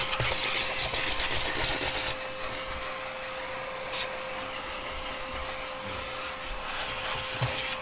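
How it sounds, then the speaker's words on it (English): A vacuum cleaner drones loudly and continuously up close while cleaning a car interior, with rattling and clicking as debris gets sucked up and the nozzle bumps around. "We're going to get the vacuum too."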